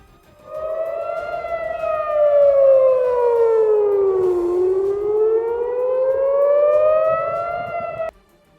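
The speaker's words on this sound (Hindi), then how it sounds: "वहां सायरन बजाकर लोगों को आगाह किया गया, उन्हें लगातार हो रहे हमलों की चेतावनी दी गई।" A civil defense air raid siren, sounded as a warning of Iranian missile attacks, wails loudly, its pitch sliding slowly down and then back up in one long sustained tone before cutting off abruptly.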